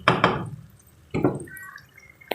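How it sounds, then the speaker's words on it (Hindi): Water from a glass being poured into aloo chicken curry that has finished frying, coming as two short splashy bursts close by with a quieter gurgle between. "अब इसमें मैं ऐड करूँगी 1 गिलास पानी ऐड कर दूँगी"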